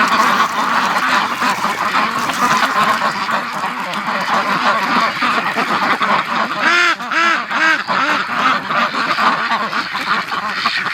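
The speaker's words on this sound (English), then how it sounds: "the ducks are down here on the ice" A flock of Muscovy ducks out on frozen ice keeps up loud, close quacking and honking calls, with many overlapping voices throughout.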